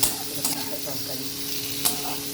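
A spice mixture fries in a pan before salt goes in, giving a steady close sizzle with scraping stir strokes and a couple of louder clinks.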